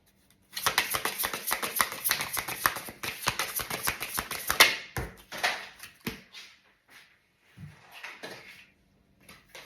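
Tarot cards are riffled and shuffled close up in a fast, dense run of crisp flapping clicks for about four seconds, followed by slower scattered card slaps and taps that fade out.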